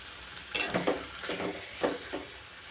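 Ridge gourd and chana dal curry bubbling and sizzling in a pan, soft irregular stirring scrapes and wet gurgles over a faint steady hiss, fairly quiet and close.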